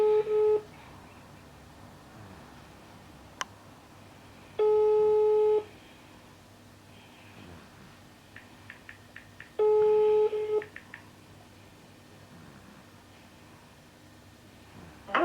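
Repeated telephone tones on an outgoing call before it goes to voicemail, two steady electronic beeps about five seconds apart over a faint hiss, alone with no talk.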